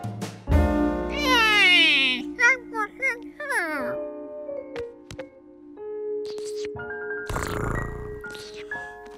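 A cat meows in a cartoon, a series of drawn-out, wavering cries mixed with a child-like voice, followed by sparse sound effects and a final scratchy vocal burst.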